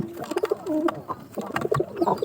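A sick pigeon with a sore on its mouth gives a short series of soft, close coos over a couple of seconds.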